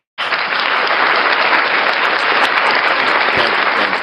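An audience breaks into sudden, steady applause at a Prestige and Platinum 2023 gathering, a loud, dense wash of clapping that starts abruptly and holds evenly throughout, with no voices over it.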